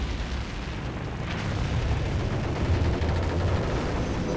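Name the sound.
warship cannon firing and explosions as USS Chicago sinks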